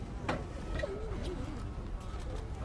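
Turkey at the White House turkey pardoning, giving soft low gobbling and warbling calls close by amid steady outdoor crowd murmur.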